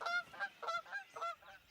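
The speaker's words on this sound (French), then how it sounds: "Des outardes." A flock of Canada geese honks in quick succession, about six nasal calls in under two seconds, fairly close and clear with no talk over them.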